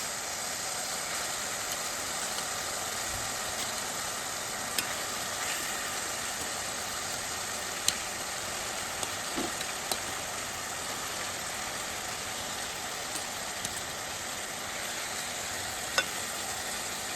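Fish pieces simmering and sizzling in oily, spicy fish curry in a pot, a steady close hiss with faint occasional ticks and pops, no talking.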